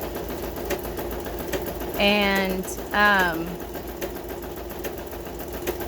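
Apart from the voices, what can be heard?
sewing machine stitching book pages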